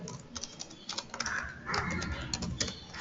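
Computer keyboard keys tapped while writing code, quiet, irregular clicks in short bursts, some clustered faster, over a faint room background.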